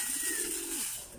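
Pigeons coo inside a loft in a short, close, soft rolling call that rises and dips once over a faint airy background, with no voices.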